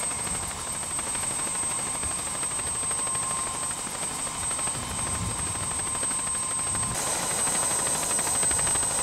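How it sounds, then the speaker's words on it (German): A helicopter flying nearby while delivering a new summit cross to the Hochstuhl mountain, its rotor buzz and engine whine holding steady and growing slightly louder toward the end. "wie ein Hubschrauber das neue Gipfelkreuz auf den Hochstuhl bringt"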